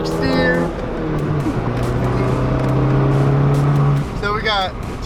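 A Fiat 500 Abarth engine pulls hard under acceleration, its loud close tone climbing and holding through a gear, with a voice briefly speaking over it near the start and end.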